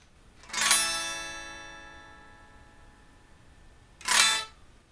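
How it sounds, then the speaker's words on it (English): A guitar chord played clean and captured only by a microphone. Two separate strums ring out alone, each bright and quickly decaying, with a quiet gap between them. "Okay, so this here, just the guitar with the microphone, nothing on from the recording situation here."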